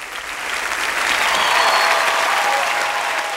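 A young studio audience at a cải lương singing competition final breaks into loud, dense applause that swells and holds steady throughout. The clapping fills the room, with faint crowd murmur beneath and no clear speech.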